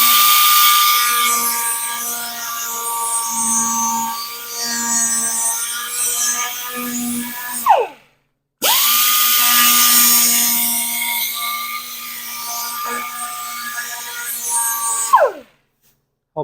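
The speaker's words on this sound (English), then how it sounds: "you can fine tune it with the die grinder" A die grinder works a piece of 1/8 inch steel plate on a 1964 Ford Fairlane drag build, giving a loud, steady high-pitched whine in two long runs, each ending as the tool spins down and cuts off.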